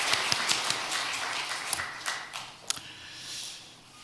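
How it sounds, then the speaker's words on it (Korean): A church congregation claps during a Sunday worship service, scattered hand claps near and fairly soft, tapering off over a few seconds. "오늘 박수 올려드리겠습니다"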